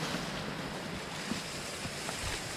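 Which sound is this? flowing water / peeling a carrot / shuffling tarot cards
flowing water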